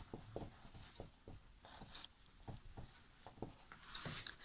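Chalk or marker writing on a board during a Class VIII Sanskrit lesson, a run of short scratchy strokes and taps in irregular rhythm, close and moderately loud, with no talking.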